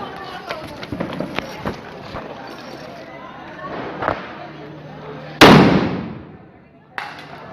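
Diwali firecrackers going off outdoors: scattered small pops and crackles, then one loud close burst that rings and fades, followed by another sharp crack, with people talking and moving about around them.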